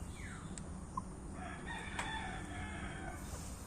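A hungry chicken on a backyard plot gives a clear rooster crow with a few clucks, moderately close against a quiet outdoor background.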